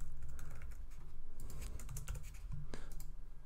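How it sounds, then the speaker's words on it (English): Typing on a computer keyboard while writing C# code, a quick, uneven patter of close key clicks continuing throughout with no talk. "oh, it's a great day for typing."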